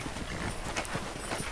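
Horse hooves clip-clop in a steady walking rhythm within Red Dead Redemption, fairly close and continuous against a dense background of game ambience, with no talk over them.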